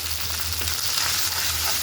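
Spices with garlic paste and onion paste fry in oil over reddened onions, producing a steady, close sizzle and crackle with no talking.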